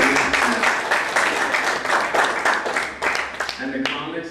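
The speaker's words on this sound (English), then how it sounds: "Can you give yourself a little round of applause just for taking" Audience applause at a comedy show fills the whole stretch, dense and steady clapping from a live crowd with some cheering mixed in, loud and close throughout.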